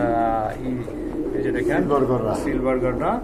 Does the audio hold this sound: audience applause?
no